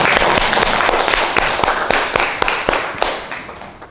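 Classroom applause from students, a burst of dense clapping with sharp distinct claps standing out, loud at first and tapering off over a few seconds.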